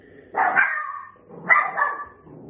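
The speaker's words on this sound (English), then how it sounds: "He don't even know what he's barking at." A dog barks indoors in two short bursts, each a loud cluster of close, sharp barks about a second apart, with room echo and no talk over it.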